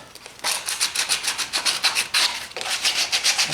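A metal air intake part for a 1977 Camaro Z28 is deburred with quick, rhythmic scraping strokes, close and bright, about a dozen rasps in fast succession after a short pause.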